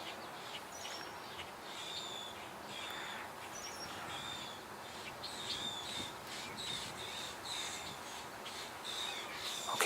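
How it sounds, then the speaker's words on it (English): Grackles call outdoors, a chorus of harsh, squeaky, repeated notes over steady background noise, clustered and overlapping throughout, with no talking. "So I guess we're going to just keep hearing these grackles make all this noise."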